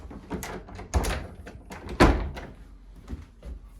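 An old antique door swings shut in a newly fitted jamb, giving a few dull wooden thuds and knocks with a firmer bump near the middle, close and moderately loud.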